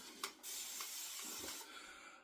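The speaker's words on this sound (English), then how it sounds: "put some Thayer's cucumber mist on the face" A few brief hissing spritzes of Thayer's cucumber mist from a continuous sprayer, soft and close, in a quiet room.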